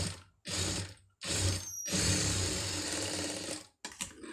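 Sewing machine stitching a folded fabric strip in several close, steady runs, with brief pauses between bursts of rapid mechanical whirring and no talking.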